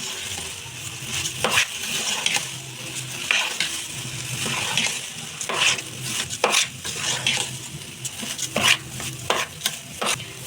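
Soaked rice being stirred in a pot over a high flame for Kozhikode biriyani, with repeated scraping strokes of a spoon against the pot over a low sizzle, close and steady, with no talking.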